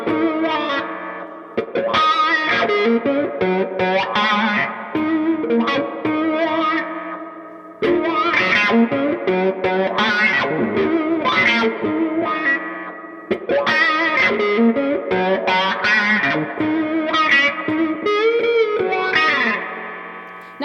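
A distorted electric guitar plays a song intro slowly, with effects and chorus-like shimmer; loud, dense phrases and string bends repeat in long runs with brief breaks, sounding alone without voices.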